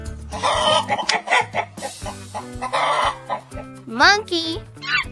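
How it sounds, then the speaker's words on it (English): Chicken clucking in quick bursts followed by a rooster crowing near the end, loud and close, set against background music. "Chicken."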